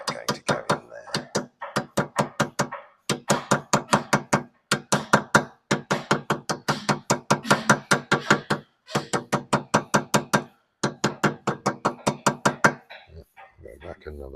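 Hammer tapping a bearing collar into place on a Peugeot 309 GRD Turbo, many quick sharp knocks in rapid bursts with short pauses, close and fairly loud throughout.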